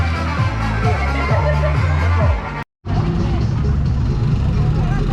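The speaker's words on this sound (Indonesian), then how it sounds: "Ini para pemenang pulang naik truk dari Desa Simpang Bingkuang." Trucks carry festival winners home from a village festival, a loud continuous engine rumble with crowd babble and voices mixed in, cut by a brief silence halfway.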